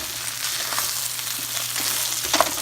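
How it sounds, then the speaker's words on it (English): Eggs and pork stir frying in a pan give a steady sizzle with brief stirring scrapes and clatters near the end. "And I keep stir frying."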